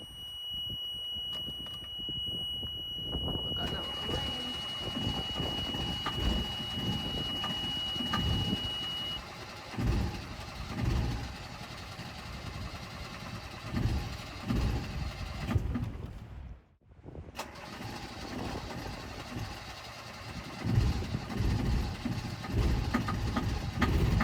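A sailboat's diesel engine being revved to roughly three-quarters throttle while trying to get it started, a steady close rumble throughout after a high electronic whine fades, with one brief dropout midway.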